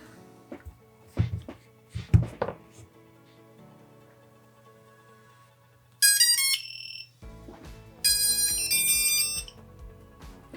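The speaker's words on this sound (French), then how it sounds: "le buzzer autonome s'est allumé, il est alimenté, c'est parfait" A standalone buzzer on an FPV drone sounds in two short bursts of shrill, piercing electronic beeping, preceded by a few soft clicks and handling noises on a quiet bench.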